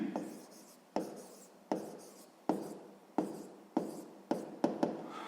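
Pen strokes writing on paper while working through a sixth-grade maths exercise, a run of about eight sharp scratchy taps and strokes close to the mic, quickening toward the end, with no talk.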